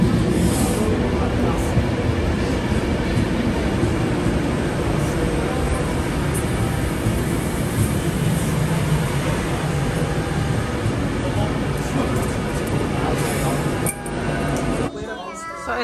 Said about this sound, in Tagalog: So ito na ang train.